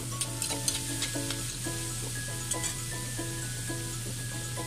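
Tofu frying in a pan, with a constant bright sizzle and a steady low hum, and faint clinks and stirring scrapes over the top.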